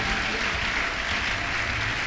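A church congregation at a French-language sermon applauds loudly and steadily, a dense, continuous wash of clapping from many hands with no pauses.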